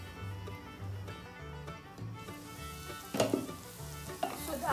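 Chicken gravy masala with coriander leaves cooks in oil over a low gas flame for Bengali chicken kosha, a steady soft sizzle with occasional louder stirring scrapes, close and continuous with no talk.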